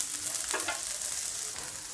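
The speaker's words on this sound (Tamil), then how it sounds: "ஸோ இதே மாதிரி நம்ம இருக்கிற மற்ற மீனும் பொரித்து எடுத்துக்கலாம்." Fish fries in hot oil with a steady bright sizzle, close by and constant, and a brief stirring scrape partway through; no voices.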